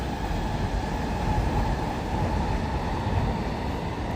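A Shinkansen bullet train accelerates past in Tokyo as a steady, dense, loud rumble and rushing roar that holds unbroken throughout, with no speech.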